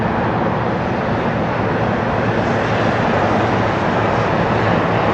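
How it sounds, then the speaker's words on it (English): Loud, steady broadband engine roar from several helicopters flying close overhead near a fishing spot, a continuous wash of rotor and turbine noise that drowns everything else without letup. "I got like 4 helicopters right here."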